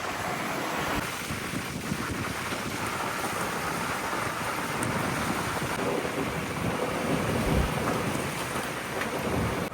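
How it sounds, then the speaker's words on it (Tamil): During a storm at sea aboard a deep-sea gillnet fishing boat, heavy rain and strong wind roar in a dense, unbroken wash, with gusts buffeting the microphone throughout. "காற்றோட வேகம் அதிகமாகுது, மழையும் அதிகமாக உள்ளது."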